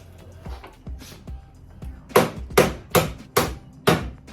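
Hammer blows knocking old angled bolts loose on an antique Albany cutter sleigh: a few lighter taps, then five loud, sharp metallic strikes in an uneven rhythm, close up and alone.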